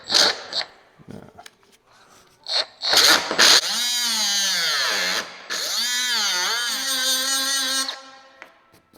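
A power tool whines up and cuts through a broken-off part close to fiberglass on a pickup tribute truck during an interior delete. The pitch sweeps down under load in two long sustained runs after a few brief bursts, loud and close, with no talk.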